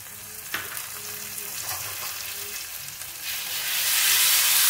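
Tomato paste fries with onion in a pan, a steady sizzle with a few stirring scrapes, growing louder and brighter toward the end.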